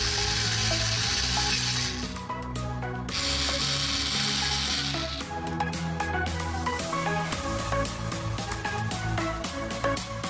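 A small drill drives tiny screws into a Japanese craft kit, making rapid clicking, ratcheting mechanical bursts that stop and start at close range with no voices.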